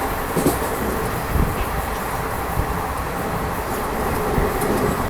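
The Puducherry-Kacheguda Express rumbles along steadily, heard from inside a carriage as a continuous broadband roar with faint rhythmic clatter.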